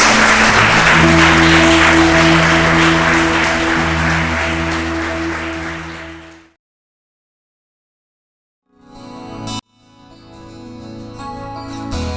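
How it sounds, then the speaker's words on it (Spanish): A congregation applauds for God at a Spanish-language church service, a broad loud wash of clapping with sustained music tones beneath, fading out after about six seconds, then silence before music and clapping return. "Uno le da un fuerte aplauso a nuestro Dios"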